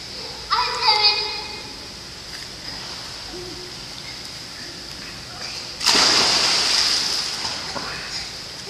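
A young boy jumps into a swimming pool, making two bright splashes a few seconds apart, with a faint high hiss between them. The splashes are close and loud, and there is no talk during the clip.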